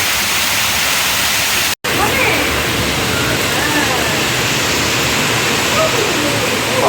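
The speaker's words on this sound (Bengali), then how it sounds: "প্রচুর বৃষ্টি হচ্ছে এখন।" Very heavy rain pours onto a roof and balcony where water is pooling, making a dense, steady roar that fills the whole clip, broken only by a momentary dropout.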